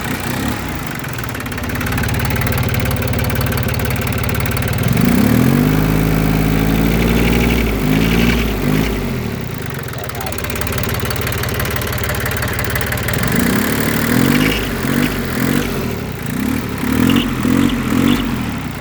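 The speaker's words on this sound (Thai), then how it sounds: "ตัวนี้จะเป็นเครื่องยนต์3สูบ17 แรงม้านะครับ" A small three-cylinder, 17-horsepower diesel tractor engine idles steadily and loudly, its chugging rumble rising and falling slightly in pitch, with no voices.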